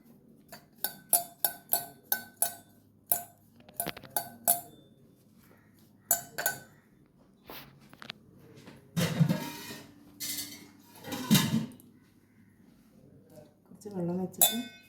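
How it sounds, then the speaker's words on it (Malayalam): A spoon stirs a tiger prawn marinade of lemon juice and a little water, making a string of sharp metallic clinks and taps against the bowl, first in quick rhythmic runs and then more spaced out, with talking in between. "കുറച്ച് വെള്ളം വെച്ചിട്ട് നന്നായി മിക്സ് ചെയ്ത്"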